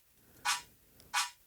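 A noisy sampled snare runs through convolution reverb and strikes twice, each hit a bright burst of hiss with a short washy tail and quiet gaps between.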